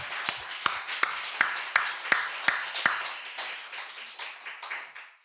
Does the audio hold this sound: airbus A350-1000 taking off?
no